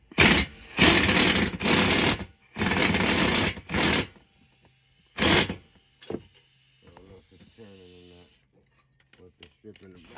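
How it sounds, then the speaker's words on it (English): Impact wrench with a 5/8 socket on a shock bolt of a 2008 Dodge Durango 4WD: several loud rattling hammering bursts close up, separated by pauses, followed by quieter clicks and handling. "So I'm gonna use my impact wrench with my 5/8 socket"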